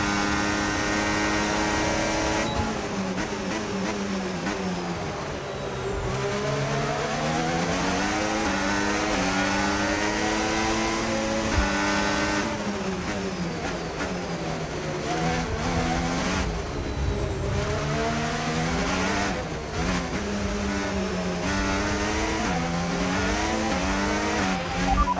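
An F1 race car from the F1 25 racing game, a high-pitched engine whine that climbs and drops steadily through gear changes and corners, loud and continuous throughout.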